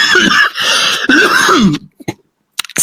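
A man coughs and clears his throat in a harsh, loud burst close to the mic, followed by a few short, sharper coughs after a brief pause.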